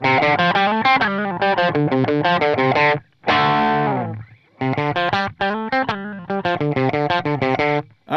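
Electric guitar through a JHS Morning Glory V4 overdrive on its low gain setting, strummed chords and rhythmic riffing with a lightly driven, crunchy edge, loud and close with two brief pauses, no talking.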